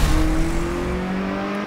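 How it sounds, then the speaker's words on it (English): Car engine in an Xbox One X racing game, a loud, steady, high-pitched drone that holds a constant whining tone and eases off slightly at the end, with no talk. "What on earth is wrong with that engine sound?"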